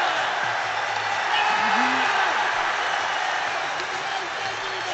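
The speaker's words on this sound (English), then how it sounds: "And listen to that cheer." A football crowd at Hampden roars and cheers for Kieran Tierney, a broad sustained wash of noise with whoops rising through it and a commentator's voice over the top.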